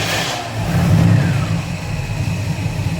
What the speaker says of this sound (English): Actually doesn't sound too bad for an engine that's been sitting here, not moved for like 18 months.